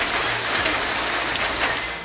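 Steady rain falls in Dadu and Tando Allahyar, Pakistan, a dense, even hiss of drops on surfaces that continues without a break at moderate level, with no voices.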